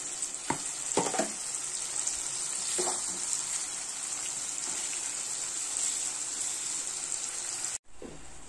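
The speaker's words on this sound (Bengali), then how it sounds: "মশলাটা ভালো করে কষাবো যতক্ষণ না তেল ছাড়ছে" Spice paste and tomatoes frying in oil, a steady bright sizzle with a few spoon scrapes and taps while being stirred, close and even, cutting out briefly near the end before resuming, no talking.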